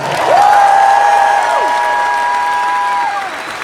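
A convention crowd in Las Vegas applauds and cheers at a motivational speech, the loud clapping joined by sustained whistles and shouts that ring out over the noise.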